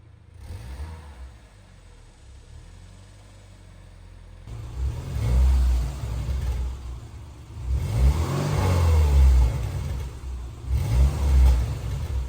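A 2000 Subaru Impreza 2.5 RS engine with its old exhaust idles with a rough rumble, then revs up several times in deep, throaty surges through a loud exhaust.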